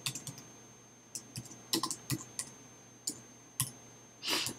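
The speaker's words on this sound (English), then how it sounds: "bad typing today" Typing on a computer keyboard while writing an email, sharp irregular key clicks in short bursts with pauses, close and clear, ending in a soft breathy sigh.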